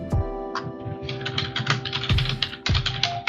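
Keystrokes on a computer keyboard as a command is typed into a Linux terminal, a quick run of sharp clicks with a few heavier thumps like the enter key, close and clear with no talking.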